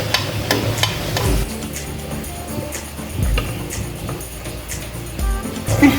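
Stir-frying with Chinese herbs in a pot while making Thai-Chinese braised pork leg: steady scraping and stirring with a soft sizzle and occasional clunks of the utensil, close and continuous.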